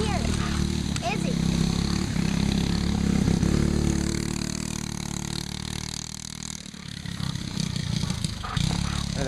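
A Briggs and Stratton Animal go-kart engine runs on its first start, a loud buzzing small-engine drone close by that fluctuates and dips briefly before picking up again.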